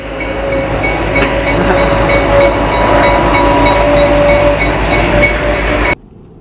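A train runs along the rails on Vancouver Island, giving a loud, steady rumble with faint rhythmic clicking and a thin tonal whine that cut off abruptly near the end.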